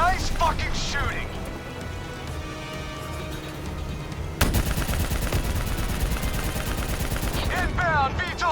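Sustained automatic gunfire from a Call of Duty Black Ops 3 campaign battle, dense rattling bursts with a sharper, louder volley partway through, while shouted voices call out over the combat.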